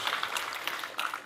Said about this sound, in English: now you can clap for the demo if you want